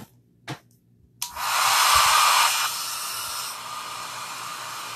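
After two faint taps, a small travel hair dryer on its cool setting whirs on and blows a steady, airy hiss that eases slightly lower and continues to the end.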